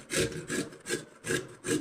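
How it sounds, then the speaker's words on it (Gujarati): A Rajapuri mango is grated thinly by hand, making five rhythmic rasping strokes at a steady pace, close and clear with no talk. "છીણ કરી લેવાનું પાતળું"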